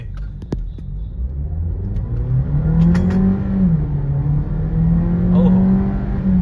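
A Volkswagen Virtus GT TSI with DSG gearbox accelerates hard in sport mode with traction control off, its engine note rising loud and close in a sustained rev through the gears, with voices talking over it.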